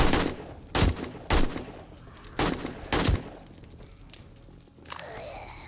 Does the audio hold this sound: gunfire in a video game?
yes